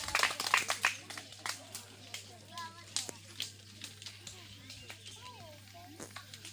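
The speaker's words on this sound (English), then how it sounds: "Oh, let's clap for them." Scattered clapping from a small audience at a school debate club inauguration, a burst of sharp claps at first that thins into sparse, irregular claps, with children's voices and chatter mixed in.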